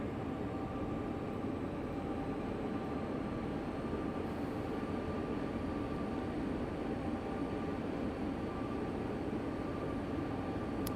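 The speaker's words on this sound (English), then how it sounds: "Train sounds kind of quiet on the inside." Steady, muffled rumble and hiss inside a locomotive cab in Train Sim World 2 on Sherman Hill near Cheyenne, hauling a mile-long freight train of over 100 cars, continuous and even throughout with no voices.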